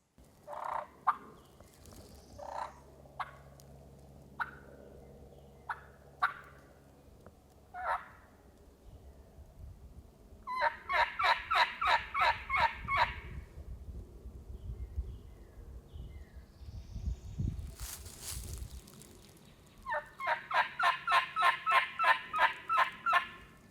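An eastern wild turkey gobbles repeatedly in hardwoods in answer to calling. Several rapid, rattling gobble bursts stand out loudly against scattered sharp call notes and faint woodland background, with no speech.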